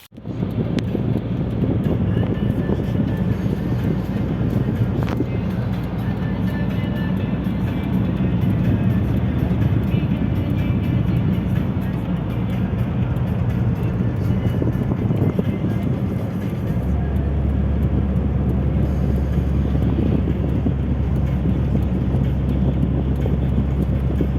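An Opel Astra G 1.6 with a seized gearbox is towed along a road, heard as a steady, loud low rumble of tyres and wind noise that continues throughout with no let-up.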